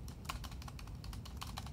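Quiet typing on a Logitech K800 plastic keyboard, a soft steady run of low clicky keystrokes with no one speaking.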